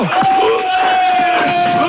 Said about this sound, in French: Franchement, ça mérite des applaudissements. Attention, acclamation.